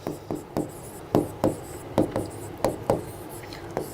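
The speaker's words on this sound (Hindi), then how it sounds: "लाओ हिंदी में ही लिखते हैं इनके नाम" Pen strokes scratch on paper as country names are written out by hand, about a dozen short, close scratches in an uneven rhythm, quiet and with no voice over them.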